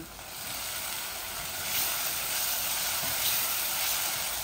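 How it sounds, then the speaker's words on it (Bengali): Spices fry in a pan with a continuous hissing sizzle, fairly close and steady, slightly swelling midway, with no talk over it. "এই যে আমার মশলাগুলা ভাজা ভাজা হচ্ছে"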